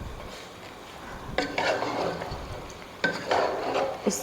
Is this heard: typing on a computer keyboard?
no